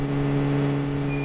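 A vehicle engine in a battle royale video game hums steadily and close, a low constant drone with a smooth, sustained tone and no talk over it.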